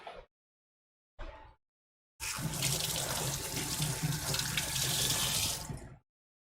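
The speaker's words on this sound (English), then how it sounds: "Give this a quick rinse." A kitchen tap turns on briefly twice, then runs steadily for several seconds as something is rinsed under it, a close, bright splashing rush of water that stops abruptly.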